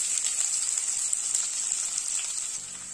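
Two large finely chopped onions fry in hot oil with curry leaves for a Tamil tomato gravy, a steady bright close sizzle that continues without a break and with no talk.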